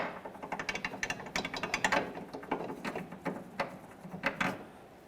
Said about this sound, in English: You can now get on it with an impact. And remove that bolt.